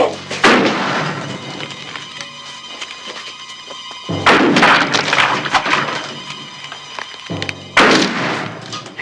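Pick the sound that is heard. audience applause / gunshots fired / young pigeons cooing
gunshots fired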